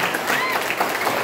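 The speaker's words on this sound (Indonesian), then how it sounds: "Tepuk tangan dulu" Applause from a school audience at a student orientation assembly in Indonesia, a steady broadband patter of many hands filling a short stretch alongside faint voices in the crowd.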